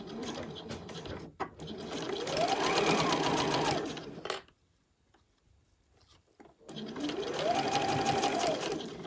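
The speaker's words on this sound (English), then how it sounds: "So just a normal straight stitch, approximately a 1 centimetre seam allowance, all the way down, and just start and finish with a back stitch." A sewing machine runs a straight stitch down the seam of a fabric wash bag in two steady bursts. The motor's whirr rises and settles in each run, with a short quiet pause and a few handling clicks between them.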